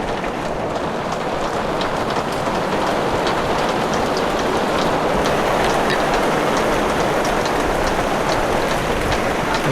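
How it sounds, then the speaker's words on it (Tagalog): Steady, loud rain falls on a leaking roof, a dense unbroken hiss throughout with faint drip-like taps mixed in and no voices. "Sa tuwing umuulan lang naman yan tumutulo."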